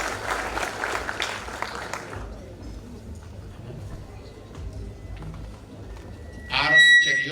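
A crowd claps for Speaker Kingi as his fundraising contribution is announced. The clapping is loud at first, then thins and fades into quieter background murmur, and a voice breaks in near the end.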